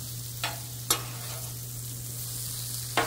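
Mini meatloaf sizzles in oil on a Blackstone griddle, a steady close hiss broken by three sharp clicks or scrapes from a spatula.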